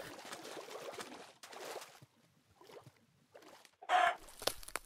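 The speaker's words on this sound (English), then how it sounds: "Chicken with a hat!" Chicken clucking in a modded Minecraft game, a few short game-sound bursts between gaps, the loudest near the end, with faint talk in the background.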